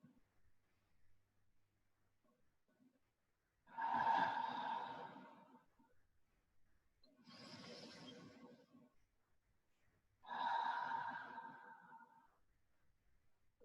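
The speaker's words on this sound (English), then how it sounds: "ballooning out your belly on the inhale and emptying out your belly on the exhale" Three slow, deep belly breaths, each a long airy inhale-exhale swell separated by quiet pauses, close and soft with no talking.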